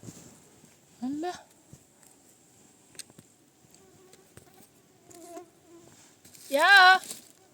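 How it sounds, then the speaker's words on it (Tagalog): A thin, high mosquito whine from a swarm of mosquitoes in a forest during chanterelle mushroom picking hums faintly throughout, broken by two short vocal exclamations. "Ang daming lamok, guys. Ano ba yan? Daming lamok. Libo-libong lamok."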